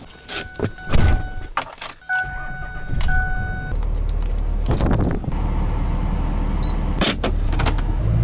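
A car towing a trailer loaded with an LS3-swapped Miata sets off: a few thumps and clicks and a brief electric window whine, then a steady, loud engine and road drone.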